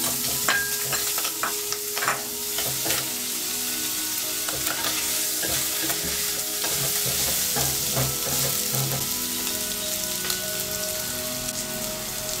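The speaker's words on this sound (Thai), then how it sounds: "อุ้มจะนำหอมใหญ่ลงไปผัดนะคะ หอมใหญ่เล็กน้อยค่ะ แล้วก็กระเทียมสับนะคะ" Onion and minced garlic stir-fried with pork in a pan for kimchi soup, a steady close sizzle broken by scraping stirs and small pops, with no voices.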